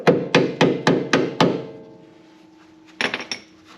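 Five sharp, evenly spaced metallic hammer strikes on a chisel, bending back a clip on a truck trailer hitch, ring out close and loud, then a pause before a quicker cluster of lighter metallic taps.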